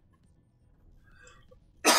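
A quiet room, then a single sharp cough bursts out loudly right at the end.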